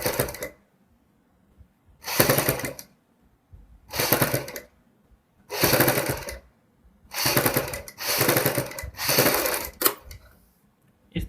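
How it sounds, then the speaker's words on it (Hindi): A sewing machine stitching a kurti neck piece runs in six short bursts of rapid mechanical clatter, each lasting about a second, separated by quiet pauses, close up and with no talking. "अब हम यहाँ पे एक सिलाई लगाएंगे।"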